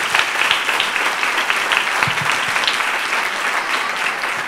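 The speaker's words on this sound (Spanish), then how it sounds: "Un aplauso." Steady applause from an audience, dense clapping filling the whole stretch at an even level with no voices over it.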